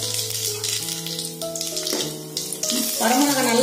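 Two whole dried red chillies sizzle in hot oil with fenugreek seeds in a pan for a tamarind okra curry. A steady, soft hiss of frying runs beneath prominent background music.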